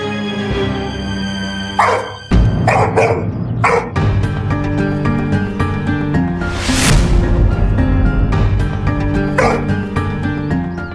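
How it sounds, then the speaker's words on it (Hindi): A dog in a Hindi superhero TV series barks loudly and repeatedly at close range, with sharp yips and whimpering sounds over a continuous musical score. "ये बल्लू को देख के भौंक क्यों रहा है?"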